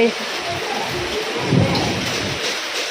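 Steady rain hisses down with a low rumble of distant thunder, and a voice is faintly heard beneath the downpour.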